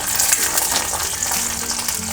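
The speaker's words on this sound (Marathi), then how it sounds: "बटाटे बघा चांगले आपले फ्राय झालेत" Potatoes frying in a pan for sabudana khichdi, a continuous close hiss and sizzle with a light crackle throughout, no talk.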